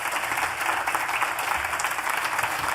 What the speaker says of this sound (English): please give another round of applause to all of the panelists